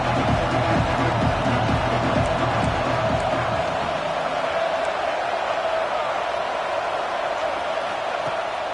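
Stadium crowd noise from the College Football 26 video game during a big red-zone third down on defense, a loud steady roar of cheering with some shouting early on, continuous throughout.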